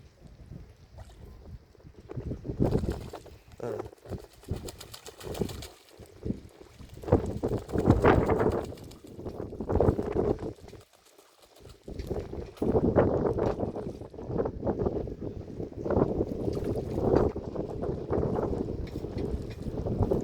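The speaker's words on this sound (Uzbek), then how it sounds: "Shamol kuchli bo'lyapti." Strong wind buffets the microphone in gusty, roaring bursts, with a brief lull near the middle before the blustering resumes.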